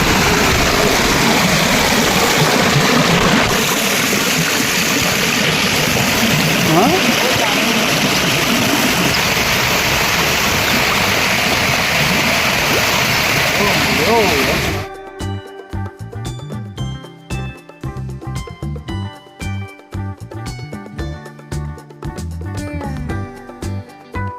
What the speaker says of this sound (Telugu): బాగా నీళ్ళు పారుతుంది సౌండ్ ఒకసారి వినండి నీళ్ళ సౌండ్